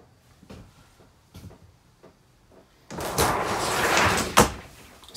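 A solid shower door in the rear bathroom of a 2021 Grand Design Imagine 2600RB travel trailer gives a few light clicks and taps, then a louder sliding rush and a sharp close.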